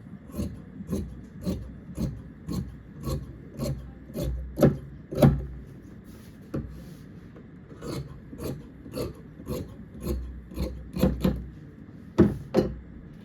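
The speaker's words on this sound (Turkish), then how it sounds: "Kumaş kenarını kesiyorum." Repeated rasping cuts along the edge of fabric for a sport jacket, coming in steady short strokes close up with brief pauses between them, with no voices.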